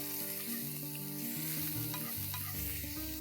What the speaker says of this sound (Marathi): आणि हे थोडंसं मिक्स करून घ्यायचं.